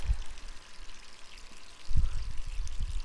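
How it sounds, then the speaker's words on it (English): Running water from a faucet filling a sink in the video game Resident Evil 3, a steady pouring stream with splashy low rumbles that grow heavier toward the end, alone without talk. "why'd you leave the faucet on to begin with?"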